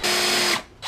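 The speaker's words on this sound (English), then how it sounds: "I have to remove the fender bolt right here so I can push the fender out a little bit" A power tool whirs loudly in a short, high burst as it spins out a fender bolt on a first-generation Honda Pilot, stopping briefly and then starting again.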